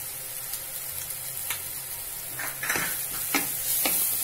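Prawns fry in a pan with butter and a pinch of salt, giving a steady broadband sizzle broken by a few soft scrapes and taps from stirring, close and fairly loud with no talking.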